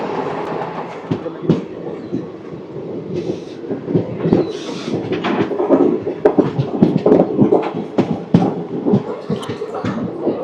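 Puri Tirupati Express passenger train rolling through a station as it slows, with a steady rumble and repeated clattering wheel beats over rail joints, close and loud, brief voices faintly under it.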